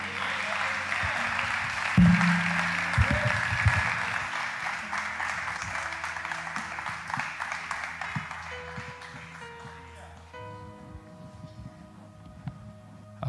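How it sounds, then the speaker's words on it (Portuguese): A church congregation applauds, a broad wash of clapping that swells at first and gradually thins and fades over about thirteen seconds, with faint tones in the background. "que as palmas louvem ao Senhor."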